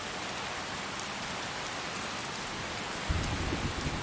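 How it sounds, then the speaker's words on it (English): Steady heavy rain and a rumbling thunderstorm in the game Skyrim, a dense continuous hiss throughout, with a deeper thunder rumble swelling near the end. "let me know if thunder and lightning gets annoying for you, the rain sound"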